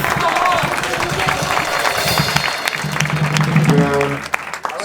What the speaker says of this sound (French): Vous pouvez applaudir Enzo.